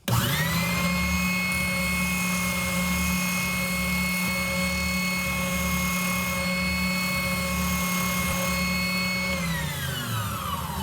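A loud power sander whines steadily for about ten seconds, sanding the inside curve of a cosplay Wolverine prop claw blade, spinning up sharply at the start and winding down at the end.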